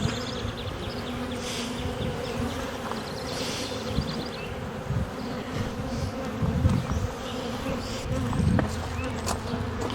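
Honey bees swarm and buzz around an open hive during the first full inspection of the year, a dense, steady, close hum that swells slightly toward the end.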